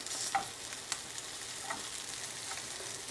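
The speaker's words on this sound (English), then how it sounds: "now my rice is going to go in. And I'm just going to break that up" Rice frying in oil in a skillet while it is broken up, a steady quiet sizzle with a few soft scraping knocks of the utensil against the pan.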